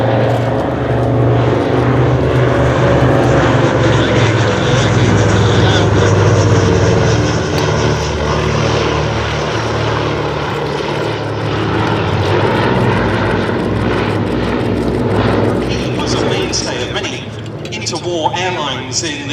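A vintage propeller aircraft in RAF 100 livery flies at the 2018 Shuttleworth Fly Navy airshow, its engines droning loudly and steadily throughout, with a commentator talking over the noise.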